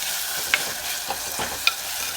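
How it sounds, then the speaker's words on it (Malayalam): A Kerala lunch curry is stirred in a pot over the heat. A close, continuous sizzle runs under a few light scrapes and taps of the spoon, with no voices. "ജസ്റ്റ് ഒന്ന് ഇളക്കി വെച്ചിട്ടുണ്ട്. നമുക്കൊന്ന് ഇളക്കണം."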